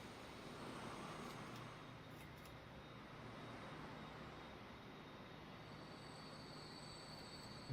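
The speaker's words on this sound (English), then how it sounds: "Yeah, this train has now stopped." A train in the Transport Fever 2 game rolls to a halt, giving a steady, even rumble of wheels and railway noise that holds at a constant level throughout, with no one speaking.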